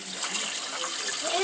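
Tap water runs steadily while dishes are washed at a sink, a constant hiss with faint splashes, and voices talk over it.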